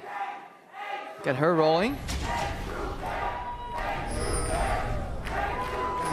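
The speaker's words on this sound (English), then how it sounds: "We know where the crowd's allegiances lie." A large live crowd at an EU LCS Summer 2015 League of Legends esports match cheers and roars in a sustained wash, with a brief chanted shout rising early, under continuous caster commentary.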